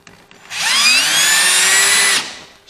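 A power drill drives a drywall screw into a 2x4 stud, its motor whining up and holding a steady high pitch for under two seconds before stopping, loud and close.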